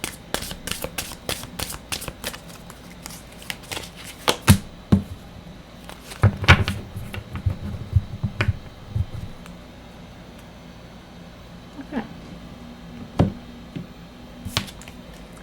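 Oracle cards are shuffled and drawn in a quiet room, with a series of sharp, close riffling snaps and flicks in irregular bursts and softer pauses between them, and no voice.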